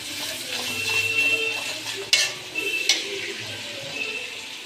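Onions and green chillies frying in a pan with a constant hiss, broken by a couple of sharp clanks of the spoon stirring against the metal, close and fairly loud.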